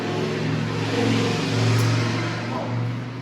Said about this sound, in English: I don't know what kind of car that was.